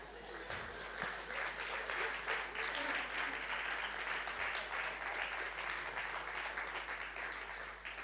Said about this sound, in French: Je vous propose qu'on l'applaudisse maintenant